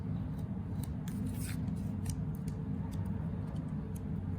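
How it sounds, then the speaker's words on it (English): Scissors snipping through thin material, a handful of quick crisp cuts over a steady low background hum. "I guess you could just use the scissors as well."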